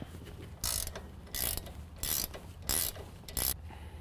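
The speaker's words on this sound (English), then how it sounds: "the next thing that we're going to take off is our steering stabilizer from our drag link. That's going to be an 18mm bolt right here." A ratchet wrench backs out the 18mm bolt holding the steering stabilizer to the drag link on a 2017 Ford F-250 Super Duty, giving five short bursts of rapid clicking at an even pace, close and clear with no talk.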